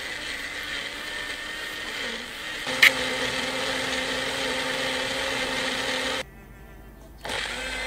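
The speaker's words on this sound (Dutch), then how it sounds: "laten we smoothie maken, beginnen met de ui en knoflook" A blender whirs steadily as onion and garlic are blended for a seafood soup base. The motor runs loud and continuous, stops abruptly for about a second, then starts up again.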